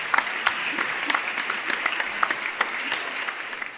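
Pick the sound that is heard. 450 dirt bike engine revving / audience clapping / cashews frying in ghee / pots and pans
audience clapping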